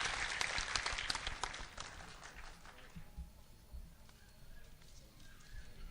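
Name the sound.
audience applause welcoming guests at mushaira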